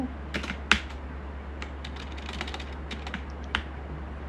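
A computer keyboard being typed on while text is entered into a Microsoft Word document, with light, irregular key clicks, a few sharper taps, close to the microphone over a steady low hum, and no voice.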